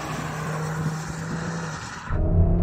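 An Audi RS3 engine accelerating on the move, a loud sustained roar with a steady drone that shifts to a deeper, heavier surge near the end.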